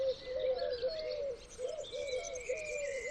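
Eurasian collared doves give repeated soft cooing calls in a rhythmic series, moderately near and fairly quiet, with faint high chirps from other birds behind them.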